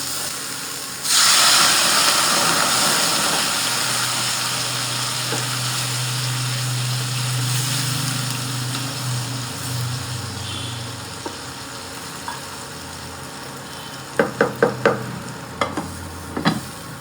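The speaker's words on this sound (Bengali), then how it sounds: "শুধুমাত্র জিরে গুঁড়ো দিয়ে রান্না করতে বললো ভেন্ডিটা, তো সেরকমভাবেই করছি" Okra spiced only with cumin powder fries and sizzles steadily in a pan, loud and close, with stirring throughout. Sharp scraping clatters from the utensil come near the end.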